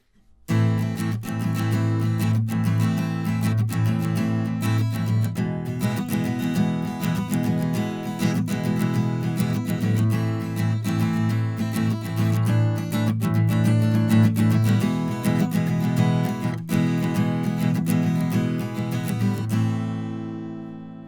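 Acoustic guitar plays continuously with strummed and picked notes, bright and close, ringing out alone before fading at the end.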